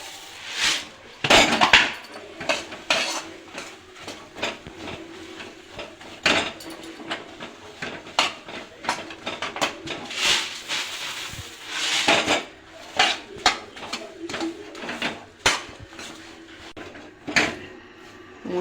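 Puffed rice is stirred with date palm jaggery in a pan, giving irregular scraping and clattering knocks of a utensil against metal. Bursts come close and uneven, with short gaps between strokes.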